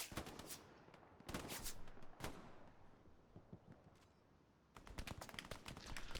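Rapid machine-gun bursts crack out in Hell Let Loose, a World War II shooter on Utah Beach, in several separate volleys with quieter battlefield rumble between them, fairly faint overall.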